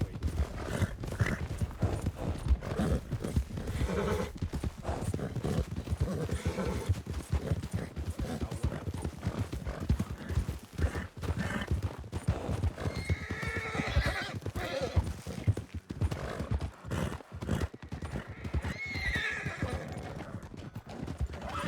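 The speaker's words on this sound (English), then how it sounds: "I hear a lot of horses on the way in." A large group of horses gallops in a video game in a steady, dense drumming of hooves, with repeated whinnies and neighs rising over the clatter throughout.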